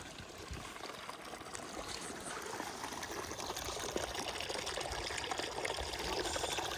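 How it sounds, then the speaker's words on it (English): Water runs steadily from a small pipe into a stream, a soft continuous trickling and splashing, fairly quiet and alone. "a little pipe stuck in the stream just to catch a better flow of water"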